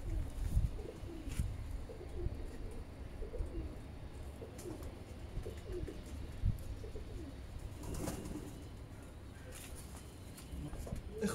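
Male pigeons coo softly in a loft, low repeated murmuring calls close by, along with faint wing and movement noises and quiet background sounds.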